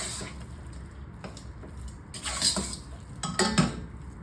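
A utensil stirs roasted cashews into sago halwa in a pan. Soft scraping and clinking strokes come at an irregular pace and stay fairly quiet.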